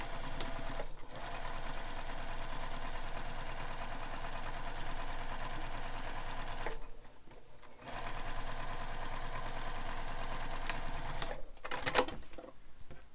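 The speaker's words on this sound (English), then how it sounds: "We're going to stitch that again using the seam allowance given in the pattern" Sewing machine stitching a handbag zipper pocket panel, a rapid, steady mechanical chatter in long runs broken by two short pauses.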